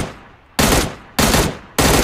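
Video game gunfire comes in three loud, evenly spaced bursts, each one sustained and harsh and heard up close.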